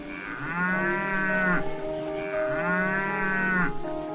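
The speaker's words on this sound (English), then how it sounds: "Now we will hear the sound of a cow." A cow gives two long, loud moos close by, each drawn out for about a second and a half with a short pause between.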